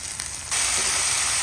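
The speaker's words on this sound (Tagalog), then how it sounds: "Isusunod ko na po ang ating marinated po na beef." Marinated beef drops onto sautéed garlic, onion and ginger in a hot pan, and a steady hiss rises sharply and holds as a continuous close sizzle.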